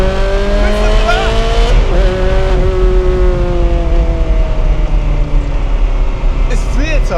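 A Ferrari 360 Modena or Porsche 911 sports car engine revs loud and close, pitch climbing and falling through gear changes, with tire squeal near the end and someone talking over it.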